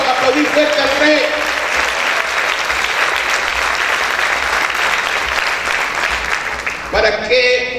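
A church congregation applauds loudly in a dense, sustained wash of clapping that holds steady for several seconds before tapering, with voices mixed in near the end.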